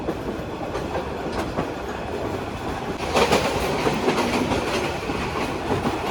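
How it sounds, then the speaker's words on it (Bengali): A train overtakes the one being ridden, on the Dhaka to Jamalpur line, its rumbling wheels and clattering carriages swelling louder midway through a steady roar. "এই মুহূর্তে যে ট্রেনটি আমাদের ওভারটেক করে চলে গেল"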